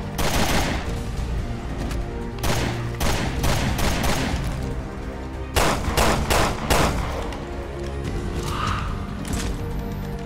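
Assault rifle fire in Resident Evil Revelations 2 Raid Mode comes as several loud, close bursts of rapid shots separated by short pauses, standing out clearly on their own.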